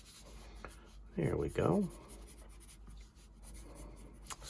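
A Blackwing Palomino pencil scratches across paper in steady, close strokes while sketching fur, with a brief spoken phrase in the middle.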